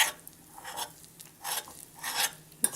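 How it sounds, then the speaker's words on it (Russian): Soft scraping and rasping strokes of a spoon stirring a thick honey and flour mixture in a pot, repeated slowly several times. "потихоньку мешаем нашу смесь"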